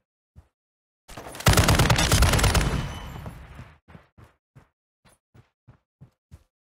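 Video game gunfire rips out in a loud burst of automatic fire that lasts about two seconds. A string of sharp, evenly spaced single shots follows, each clean against silence.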